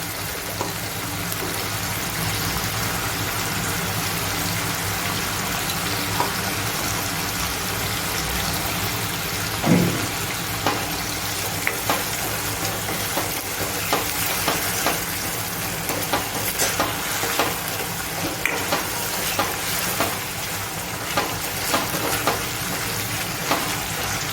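Chopped tomatoes and onions sautéing in a pan for a Kathiawadi-style snack, with a loud, continuous sizzle and fry and scattered crackles and stirring clicks throughout.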